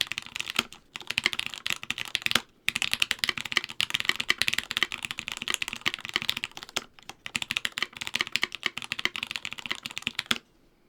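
Intensive typing on a custom mechanical keyboard with keys bottoming out, rapid bursts of close clacking keystrokes separated by brief pauses, no voices.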